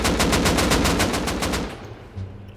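Rapid automatic gunfire from the survival video game Rust, a dense burst of evenly spaced shots lasting over a second and a half before cutting off, followed by quieter background game sound.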